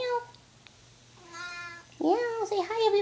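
A cat meows in several drawn-out, rising and falling calls close to the microphone, with a person's voice also heard nearby.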